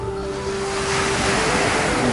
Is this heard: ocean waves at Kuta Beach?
yes